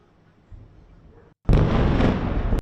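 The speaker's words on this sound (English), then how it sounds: "Israel's massive explosion could be heard on live cams focused on the city" A massive explosion over Tel Aviv caught on city live cams: a low rumble first, then a sudden loud broadband blast that roars on for about a second before cutting off, with no voices.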